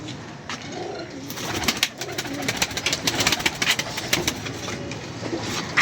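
A pigeon coos softly in a loft among birds kept for pigeon racing and flying, the low murmur set against fluttering and a busy rustling background that grows louder.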